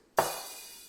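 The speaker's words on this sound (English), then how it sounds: "when I lift my foot up, the hi-hat opens." A single hi-hat opening as the foot pedal lifts: a sudden bright metallic wash that rings and slowly decays, heard alone.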